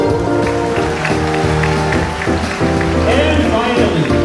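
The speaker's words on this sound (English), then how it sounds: "Let's give them a round of applause." Audience applause at a school show, a dense rain-like patter of many hands clapping that holds steady and fairly loud throughout, with a voice and some background music layered underneath.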